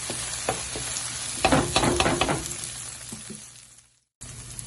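Chicken frying in a pan for chow mein, a loud continuous sizzle with a burst of stirring and scraping that gradually quiets, then a brief silence before the sizzle resumes.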